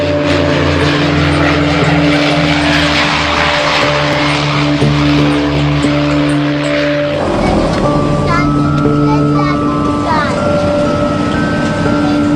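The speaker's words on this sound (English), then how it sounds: "The planes must have landed on the beach." Propeller aircraft drone loudly and steadily, a thick engine hum that shifts midway as the tone changes and fades into a different mechanical whine, with no talk over it.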